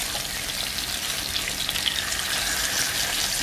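Bacon for a full English breakfast fries in a pan, a dense, even crackling sizzle that holds close and loud throughout, with no voices over it.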